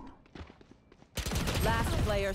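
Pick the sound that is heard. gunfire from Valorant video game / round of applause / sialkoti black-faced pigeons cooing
gunfire from Valorant video game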